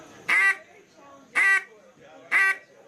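Three drawn-out, nasal duck-call quacks in a low, lonesome hen sound at an even pace, each loud and close, with quiet pauses between them.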